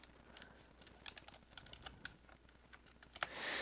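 Quick, uneven keystrokes on a computer keyboard, close and moderately quiet, with a louder clack near the end followed by a brief rush of noise; no talking.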